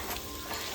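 Masala-coated chicken frying in a pan, a steady close sizzle and crackle of hot oil that runs evenly without a break, with no voices over it.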